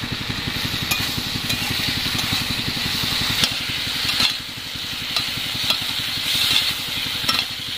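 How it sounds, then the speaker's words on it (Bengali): Bori lentil dumplings frying in oil in a pan give a steady, close sizzle that runs throughout, with regular faint clicks and stirring knocks. "এই যে বড়িগুলো কত সুন্দর করে লাল লাল ভাজা হয়ে গেছে, তো এইরকমভাবে ভেজে নিতে হবে"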